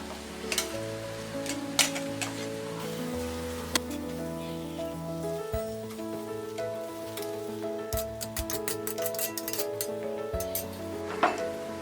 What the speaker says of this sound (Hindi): इसमें बाकी साबूदाना भी डालेंगे। थोड़ा थोड़ा डाल के मिक्स करते रहेंगे।